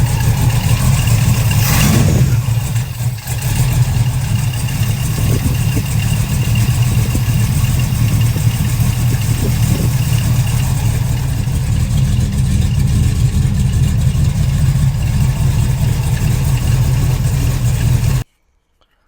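A Chevrolet Nova's 454 V8 catches at the start with a brief burst, then runs at a loud, steady, rumbling idle close by before cutting off abruptly at the end.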